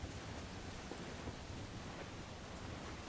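Steady rain in the video game Assassin's Creed 4 Black Flag, a constant hissing wash of noise with a low rumble beneath, even and unbroken throughout.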